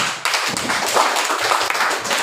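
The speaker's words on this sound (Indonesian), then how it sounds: "Tepuk tangan dulu untuk semua kelompok" A classroom group claps for all the student teams during a school lesson at HKBP Nommensen, a short burst of hand claps that rises and falls close by, with no talk over it.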